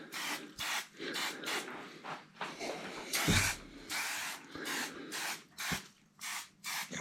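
Epoxy primer sprayed onto a bare steel BSA A10 motorcycle frame in thin coats, a series of short hissing bursts separated by brief pauses, close and fairly loud.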